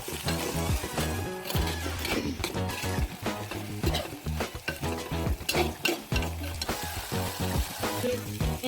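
Elephant foot yam flower sautéed with salt in a pan, stirred steadily with a scraping, sizzling texture that runs throughout, mixed with background music.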